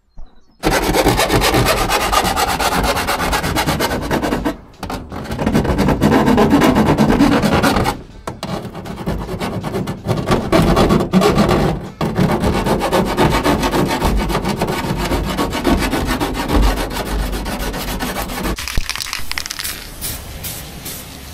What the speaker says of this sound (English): Just going to do a bit of filing now.